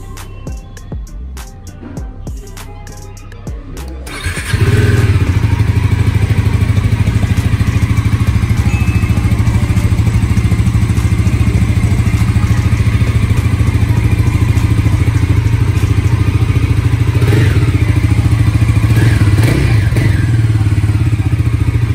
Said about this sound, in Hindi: So let's proceed with the exhaust note of this particular beast.